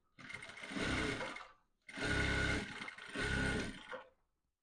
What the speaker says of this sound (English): So fold it this way and sew it close.